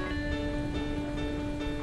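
Heavy rain falls steadily at an outdoor wedding, soaking the mandap, as a dense, unbroken wash of noise with a faint electrical hum beneath.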